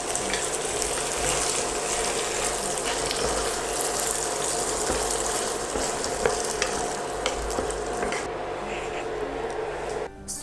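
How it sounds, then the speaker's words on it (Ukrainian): Liver with sour cream sizzles and bubbles steadily in a frying pan with a constant hiss, occasional stirring clinks, quieting near the end. "все перемішуємо і тушкуємо ще кілька хвилин під кришкою"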